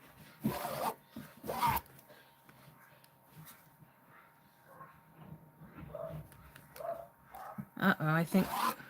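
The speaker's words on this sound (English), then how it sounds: "Both of my dogs are going nuts." Two dogs barking excitedly indoors in short bursts near the start and end, with quieter rustling and low talk in between.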